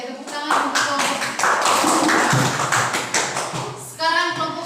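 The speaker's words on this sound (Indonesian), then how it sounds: "Oke, tepuk tangan untuk kelompok." A classroom bursts into applause for a student group that has just presented, dense clapping sustained for several seconds with a brief dip before a fresh surge near the end, voices mixed in.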